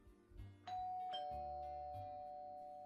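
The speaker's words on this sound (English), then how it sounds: "The bell rang again." A doorbell chimes twice, a clear ding-dong with a sustained ringing tone that fades slowly, heard fairly quietly indoors with no voices.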